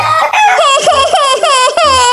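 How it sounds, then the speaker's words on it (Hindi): A pet rooster lets out a loud, close run of clucks and rising cackling calls in quick succession, filling the whole moment with no talk over it. "खा लो मेरे प्यारे मुर्गे, तुम्हें भूख लगी होगी।"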